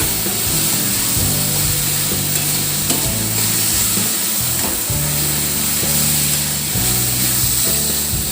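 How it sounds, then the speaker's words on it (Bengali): Mung dal frying with spices in a pan makes a loud, continuous sizzle. A steady scraping of stirring runs over it in repeated strokes, with no voices. "মশলার সঙ্গে মুগ ডালটাকে ভালো করে ভেজে নেব"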